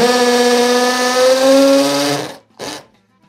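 A power drill bores holes in a wall for plugs, its motor whining loudly and steadily for about two seconds before stopping, then a short second burst.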